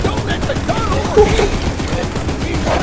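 Rapid sustained gunfire rattles from a gun in a train video game, a dense continuous burst with faint voices mixed underneath.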